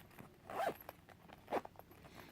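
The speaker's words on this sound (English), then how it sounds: "Now I am going to open my another zip." Zipper on a pen pouch being pulled open in two quick, close rasping strokes, quiet and with no talking.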